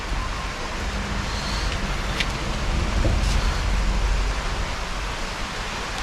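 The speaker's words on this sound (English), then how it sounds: "The rain in the mountain is the best feeling." Steady, dense hiss of rain falling in the mountains, constant and enveloping throughout with no talk over it.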